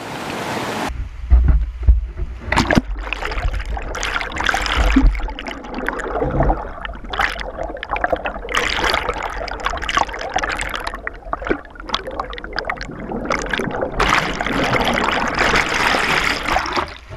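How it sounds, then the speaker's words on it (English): Henson Creek in Lake City flows loudly and continuously, with splashing and gusty wind noise buffeting the microphone throughout. "I'm in the creek, I'm in Henson Creek."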